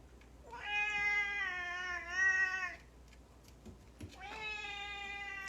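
Two drawn-out, whiny meows from a cat, close by, separated by a brief pause with faint background rustle.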